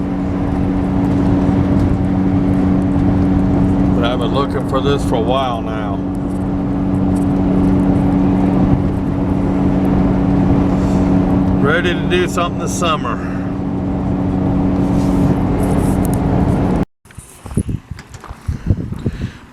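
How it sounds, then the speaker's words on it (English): A newly assembled pickup truck cruising on the road with a little front-end noise: steady, loud engine and road rumble under someone talking, cutting off abruptly near the end. "Driving my new truck that I've worked my butt off to put together."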